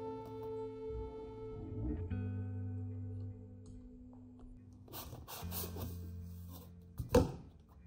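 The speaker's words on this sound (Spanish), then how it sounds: "Insertamos un tubo dentro del otro para que quede expandido a la medida correcta." PVC pipe pushed into another PVC pipe to expand it to size: quiet plastic rubbing and scraping with a sustained tonal hum, a few sharper scuffs and a brief louder knock near the end.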